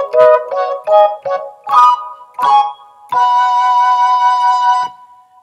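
A marimba plays the solo with both hands together, a handful of bright struck notes in a syncopated run before one chord rings out and sustains for a couple of seconds, clear and close with no talking.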